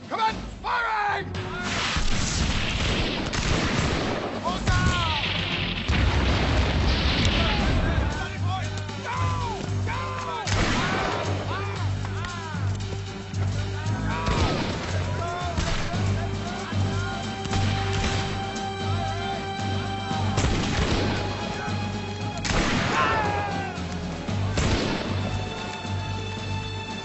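Bursts of gunfire and cannon-like booms ring out repeatedly over a long stretch of period military combat, with shouted voices and a steady low drone running underneath.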